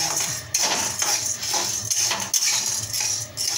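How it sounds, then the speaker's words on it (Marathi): Chana dal is dry-roasted over low heat in a pan for chakli bhajani, the hard grains rattling and scraping loudly and continuously as they are stirred, with no speech. "पहिल्यांदा तांदूळ भाजले, आता चण्याची डाळ।"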